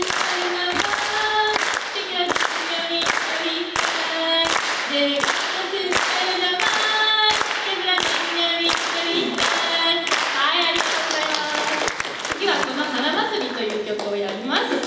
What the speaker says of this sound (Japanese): 手拍子の練習です